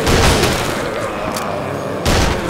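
Heavy gunfire booms through an ArmA 2 zombie firefight inside a building, a loud, close, continuous barrage of cracks and thuds that eases slightly, then slams back in with a fresh burst near the end.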